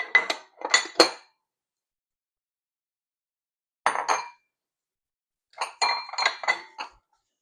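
Glass bowls and dishes clink together in a home kitchen while macaron ingredients are set out. There are three separate clusters of bright, ringing taps with silent gaps between them, close and fairly loud.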